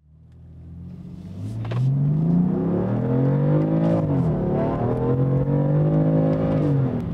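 A 2015 BMW M3 engine revving on the Mid-Ohio track, the close engine note building to a loud sustained drone that rises and falls through the gears.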